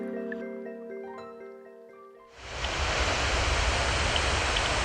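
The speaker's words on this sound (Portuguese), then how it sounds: "começamos a ouvir o barulho da cachoeira" A waterfall on the São Francisco River in Brazil: after a few seconds of soft tonal music, a loud, steady broadband roar of falling water takes over and continues evenly to the end.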